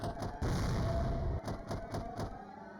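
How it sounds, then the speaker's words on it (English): Banging on a door in the Higurashi game: a series of heavy, loud thuds in an irregular run, the first long and booming, then several quicker blows near the end over a sustained musical background. "Shion banged on the door."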